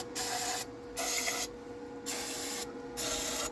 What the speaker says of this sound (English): Just spray it in the front here and in the back.